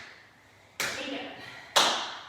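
Two sharp, separate hand claps during a high-intensity workout circuit, close and reverberant, each followed by a short ringing decay in a quiet room.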